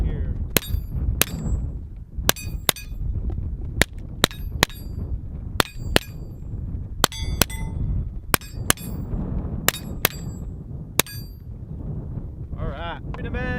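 Rapid sharp cracks of a KelTec P17 pistol firing .22 LR AR Tactical ammo outdoors, about a dozen shots in uneven pairs and singles with faint metallic clinks and wind rumble between.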